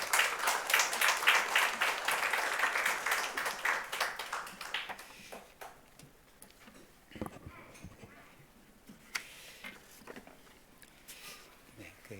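A church congregation welcomes a visiting pastor with loud applause for about five seconds, which then fades into quieter room sounds with some shuffling and speech.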